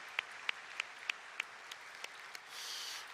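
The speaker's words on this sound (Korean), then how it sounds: "다시 한번 세례 받으신 3분 우리 축복해드리며 크게 박수하겠습니다" During a Sunday church service, a few evenly spaced hand claps ring out after a baptism, quiet and crisp, about eight in a steady beat, then they give way to a soft hiss.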